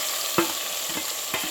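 A paste of ground coriander, coconut, tomato and onion fries in a pan, with soft sizzling and a few brief stirring scrapes, close and alone.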